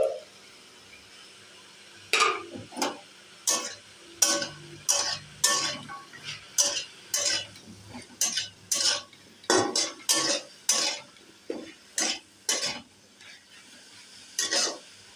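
A metal spatula stirs spices frying in a pan during home cooking, giving a steady run of sharp, close scraping clinks against the pan at a quick, irregular rhythm, with no talking.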